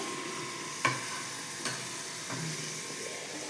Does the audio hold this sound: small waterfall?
no